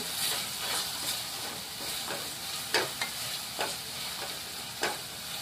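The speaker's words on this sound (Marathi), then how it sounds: "हे आपण व्यवस्थित परतून घेऊया" Prawns sautéing in a pan for biryani: a continuous sizzle and hiss of frying, broken by a few sharp scraping stirs of the spatula, fairly quiet and close, with no one talking.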